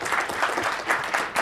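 An audience claps in a short, steady burst of applause at a tech talk following a live demo, moderately loud and continuous for the brief moment.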